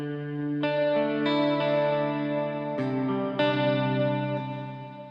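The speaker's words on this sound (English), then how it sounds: "And then modulated reverb." Electric guitar through a BOSS ME-50 using modulated reverb with chorus, a few sustained chords that shimmer and swirl as they ring out, smooth and steady with no talking.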